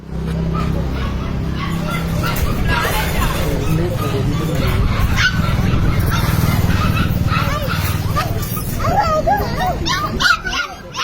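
Several dogs bark and yip repeatedly inside a pet store in Bangalore, loud and close, with occasional whimpers and people talking throughout.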